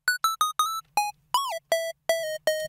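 A Serum square-wave synth lead with full effects, the main lead of a drop in an electronic track, plays nine bright, buzzy staccato notes, a fast run of short stabs and then slower held notes with a pitch swoop.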